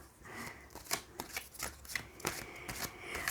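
Tarot cards being shuffled by hand, a quick run of soft riffling flicks and papery slaps at close range, fairly quiet and with no talking over them.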